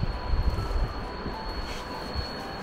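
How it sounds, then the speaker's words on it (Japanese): A Flåm Railway train in Norway rumbles past on a mountain line with a steady roar, a thin high metallic whine from the wheels running throughout. "反対車線から電車が来るの見えますか？ この電車とすれ違うんですよ。"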